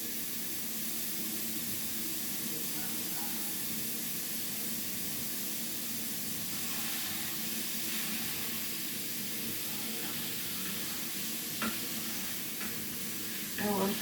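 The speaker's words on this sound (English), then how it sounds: "now we're going to cook our meat, which is going to be the filling for the patties" Ground beef browns in a hot pan for Puerto Rican empanada filling, a steady close sizzle and hiss running throughout, with occasional light scrapes of stirring and a soft clatter near the end.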